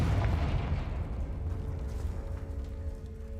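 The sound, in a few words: Confringo blasting spell cast in a video game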